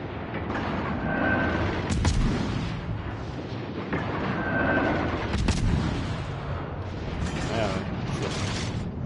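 Naval gun salvos from a heavy cruiser in World of Warships Legends, deep booming shots and rumbling impacts recurring every few seconds under a steady game soundscape, with a voice talking over it.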